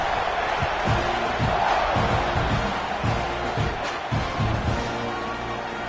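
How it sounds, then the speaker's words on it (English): A football stadium crowd buzzes loudly after a score, a dense roar of voices with scattered shouts and thumps, steady and distant-sounding throughout. "this crowd is buzzing after that last score"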